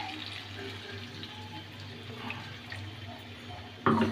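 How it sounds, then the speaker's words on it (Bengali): Spice water is poured into a pan of chicken kosha, a steady watery rush over a low hum, ending in a sudden louder splash near the end. "মশলার জলটা দেওয়া হলো"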